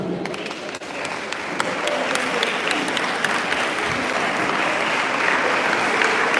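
An audience at a school conference in a lycée hall bursts into loud, sustained applause, dense clapping from many hands that holds steady throughout with some crowd noise mixed in.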